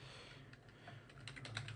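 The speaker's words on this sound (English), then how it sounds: "So that's literally what you type." Computer keyboard typing, faint and close, a brief scatter of light key clicks that quickens toward the end, with no speech.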